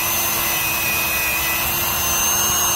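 A power tool strips paint from the weld of a 1998 Suzuki Bandit swingarm, giving a loud, constant, steady whine that runs through the whole moment without voices.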